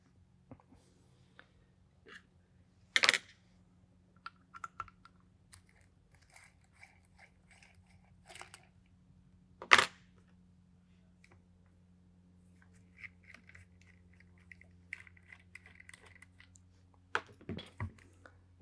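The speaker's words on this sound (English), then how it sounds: "now we loosen the stock screws" Stock screws on an FX Crown MKII air rifle are loosened: sparse, sharp metallic clicks and small taps, close up and quiet, with a few louder snaps spaced several seconds apart over a faint steady hum.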